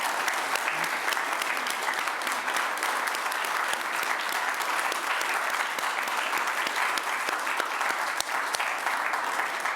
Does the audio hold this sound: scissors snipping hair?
no